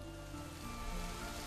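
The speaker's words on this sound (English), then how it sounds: "I hear the sound of rain from far off" Rain falling far off in the video game Psychedelica of the Black Butterfly, a soft, even hiss of drops that holds steady and faint for a brief moment with nothing else over it.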